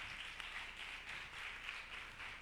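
Steady, distant audience applause fills the space as a crowd claps continuously at a university film event, soft and even without a clear pause.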